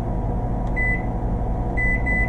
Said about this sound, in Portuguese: Micro-ondas para fazer coisinha rápida